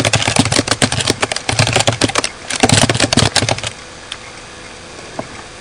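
Rapid, close clicking of computer keys in quick bursts, busy typing for a few seconds before stopping, followed by a couple of stray taps.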